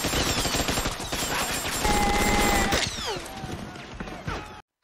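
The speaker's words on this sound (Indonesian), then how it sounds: "Tembakan dari arah hutan langsung menyambut mereka." Gunfire bursts from a forest ambush on French soldiers near a beach in Vietnam, rapid overlapping shots and volleys rattling loudly with ricochet-like whines, briefly cut to silence near the end.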